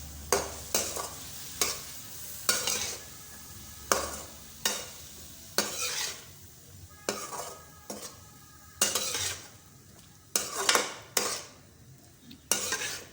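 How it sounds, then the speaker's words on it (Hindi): A spoon stirs turmeric, spices and other ingredients for cauliflower rice in a pan over a medium flame, making repeated rhythmic metallic scrapes and clinks about once a second, close and clear over a soft sizzle. "अच्छी तरह चम्मच की मदद से मिक्स कर लेंगे"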